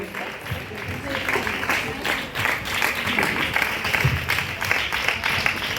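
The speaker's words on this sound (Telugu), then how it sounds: "అందరూ కూడా చప్పట్లు కొట్టి ఈ యొక్క సంతోషాన్ని పాల్పంచుకోవాల్సిందిగా కోరుచున్నాం" An audience at a hospital Christmas celebration in Gudivada claps in a loose, uneven patter that rises and falls, mixed with the murmur of talk and voices across the room.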